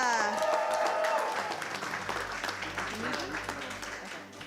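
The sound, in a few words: audience applause for a chef show winner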